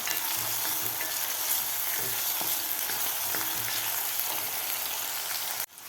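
Chopped tomato and golden onion fry and sizzle steadily in a pan, softening, with a continuous loud hiss and occasional stirring scrapes, then a sudden drop near the end.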